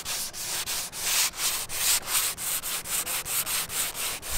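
Steady rhythmic sanding strokes on painted wood of a trawler's cabin sides, a rough scratchy rubbing repeated about every third of a second, close and fairly loud with no voices.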